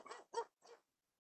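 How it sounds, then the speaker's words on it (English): Three quick, sharp barks from a dog in close succession, loud and dry, followed by silence, heard during a rural planning committee meeting with no speech over them. "Yeah, I could hear the dog."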